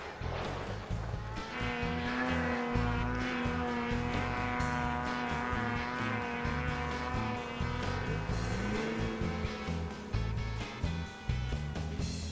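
Racing engines at a snow race roar continuously and loudly, with rising and falling revs from several vehicles.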